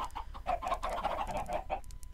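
Clucking from chickens in a Minecraft chicken farm and cooker, a steady run of short, moderately loud clucks and bird calls close by, with no talk.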